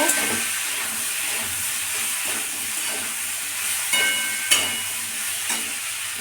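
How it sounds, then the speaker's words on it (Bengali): Spice paste sautéing in a pan for a Bengali home-cooked dish, a steady close sizzle with occasional stirring scrapes and small pops, no talking. "আমি পেস্টটা দিয়ে দিলাম। এবার এটা একটু কষিয়ে নেব।"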